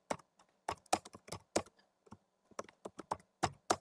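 Keystrokes on a computer keyboard clatter in quick irregular bursts with short pauses, close and clear, no voice over them.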